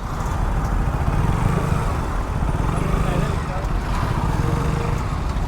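Traffic stuck on a bridge, with motorcycles and cars idling and creeping along in a steady, dense engine rumble close by, while a person talks throughout.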